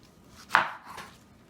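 A knife slices down the side of a pineapple to pare off the tough skin, a single near, crisp cut with a soft trailing scrape, otherwise quiet.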